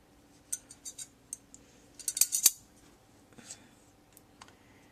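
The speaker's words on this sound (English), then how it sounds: "take your scissors and we're going to cut it into petals" Scissors cutting an acrylic piece into petals give a series of soft, close snips and clicks, sparse at first and then bunched into a quick cluster before trailing off.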